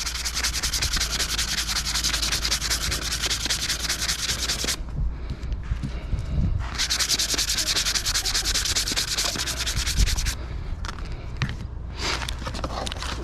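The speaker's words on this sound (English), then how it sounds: "just sand them a little bit." Steady, close abrasive rubbing comes from sandpaper working new front brake pads on a 2006-2008 Toyota RAV4, running continuously with two short pauses and no talking.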